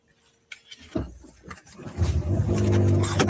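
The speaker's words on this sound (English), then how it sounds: "So my car is off park. Let's turn it off so I can get out the car." A car engine idles close by inside the vehicle, starting quietly after a pause and then swelling into a steady, louder low rumble that holds to the end.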